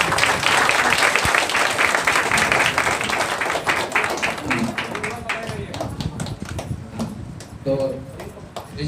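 Guests at a Hindi Christian wedding ceremony applaud in a brisk, moderately close round of clapping that thins out partway through, after which people can be heard talking.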